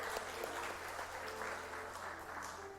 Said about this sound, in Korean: 같이 축하하고 감사의 박수 드리겠습니다